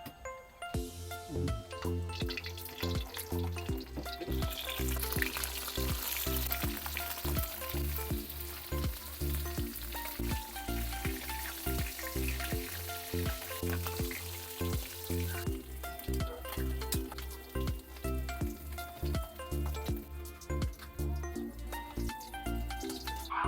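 Smoked tinapa fish frying in hot oil for pancit Malabon, a steady close crackling sizzle with popping spatters running throughout, loud and unbroken with no talking.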